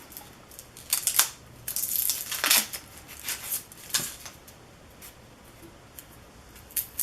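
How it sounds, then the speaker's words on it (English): An onion is peeled by hand close up, with dry papery crackles and tearing rustles in irregular bursts, alone with no talk. "Peel the onion. This one does not want to be peeled."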